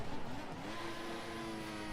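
Formula One race car engine in the F1 2014 video game, a Ferrari (Scuderia) power unit racing at the Chinese Grand Prix, droning steadily at high revs with a sustained whine throughout.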